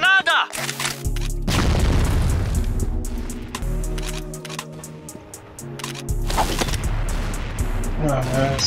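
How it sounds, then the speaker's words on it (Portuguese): Grenade explosions in the shooter video game CrossFire boom loudly with deep rumbling blasts, one early and another later, amid gunfire and game effects, with voices speaking over them. "Granada."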